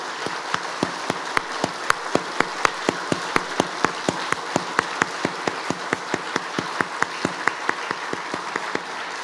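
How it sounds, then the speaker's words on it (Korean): A church congregation claps together during a revival service to welcome a visiting pastor, the hands striking in a steady, even rhythm of sharp beats over a soft background wash. "인사하실 때 우리 같이 한번 박수 한번 냅시다."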